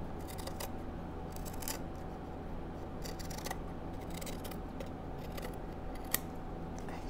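A good pair of scissors snips paper trimmed close to the base of a handmade Christmas pendulum ornament, with soft, repeated cuts and rustling at a steady pace, fairly quiet and without talk.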